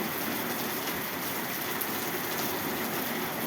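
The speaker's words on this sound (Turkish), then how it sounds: "An itibariyle yağmur başladı." A heavy downpour in Istanbul floods the roads with a dense, steady, unbroken hiss of rain that stays loud throughout, with no voices over it.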